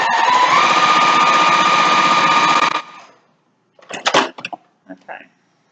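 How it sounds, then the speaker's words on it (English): A sewing machine stitches a quarter inch along the curved edge of a fabric mask, whirring at a steady, loud pace for about three seconds before stopping, followed by a few brief spoken words. "I must sew 1/4 inch along the edge"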